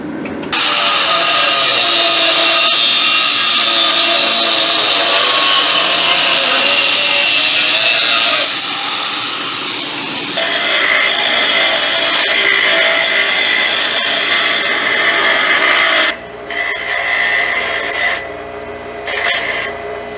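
A loud grinder with a grooved wheel cuts through an adjuster arm on a 1940 Chevy coupe, holding a harsh, steady metallic roar for about twenty seconds. The pitch shifts as the load changes, then it spins down unevenly.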